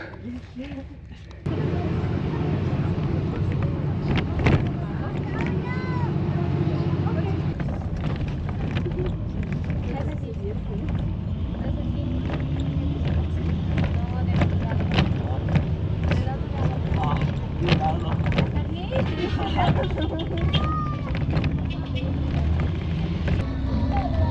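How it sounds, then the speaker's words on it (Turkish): Car ferry crossing Lake Titicaca in Bolivia, a steady low engine drone with wind buffeting the microphone and water wash throughout, after a brief quieter opening, with people talking over it. "Buradan arabalı vapura bindik. Vapurla karşıdaki kasabaya geçeceğiz."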